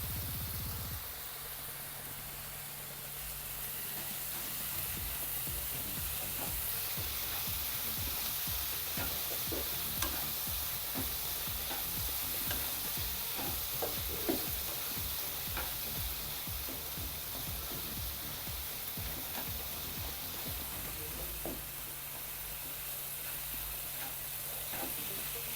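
Tomatoes softening in a pan, a steady sizzle and hiss with repeated scraping and stirring strokes through the middle, close and alone.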